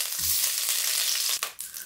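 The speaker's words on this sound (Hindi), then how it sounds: "अब हम बर्तन में घी डालेंगे" Ghee goes into a cooking pan with a close, continuous frying sizzle and hiss, followed by a brief clatter near the end.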